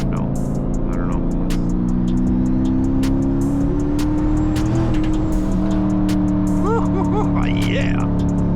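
A turbocharged Dodge Challenger SRT cruises on a highway, its engine drone and road roar steady and loud from inside the cabin, with occasional speech over it.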